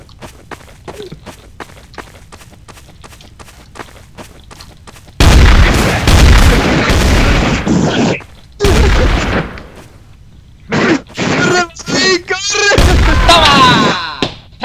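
Gunfire in Garry's Mod Trouble in Terrorist Town: loud, dense bursts of shots in several separate volleys, preceded by quick rhythmic footstep-like taps, with voices mixed in.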